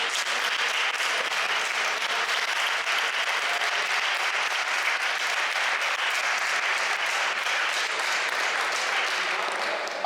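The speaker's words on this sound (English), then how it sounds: "A big round of applause for them." Loud, sustained applause from a conference audience for a space news panel at Space Creator Day 2024, an even, dense wash of clapping that holds steady throughout.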